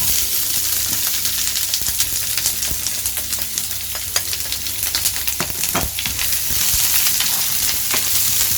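Onion sizzles in a little hot oil in a pan, a loud, steady frying hiss with scattered crackles and pops and occasional stirring scrapes, no voices.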